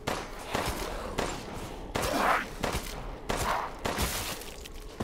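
Rapid bursts of gunfire from the survival horror video game Resident Evil Village, loud repeated volleys with thuds in between, heard without talk.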